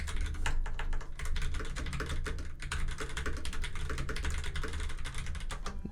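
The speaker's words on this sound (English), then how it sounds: "Damn, I'm so good at typing." Rapid, steady typing on a computer keyboard, a dense run of close, crisp key clicks lasting several seconds with no talking over it.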